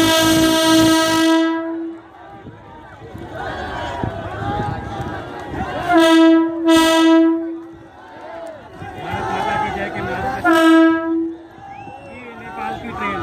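At the launch of the Nepal Railway Jaynagar passenger service, a train sounds long, loud horn blasts several times over the rumble of the train and a noisy, excited crowd.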